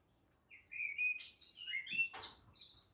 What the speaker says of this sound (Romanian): Câte păsări sunt pe aici?